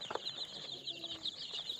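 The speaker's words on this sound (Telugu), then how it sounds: "కోడి పిల్లలు ఉన్నాయి, పుంజులు ఉన్నాయి, పెట్టెలు ఉన్నాయి" Chickens and roosters in a poultry yard give faint, repeated high chirps and clucks at a distance, with soft rustling beneath.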